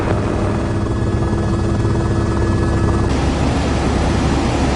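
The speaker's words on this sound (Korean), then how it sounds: "헬기 조종사인 짐과 함께 촬영에 나섰습니다" A rescue helicopter flies in strong trade winds, its rotor and engine producing a loud, steady, close roar that mixes with wind buffeting throughout, with no voices.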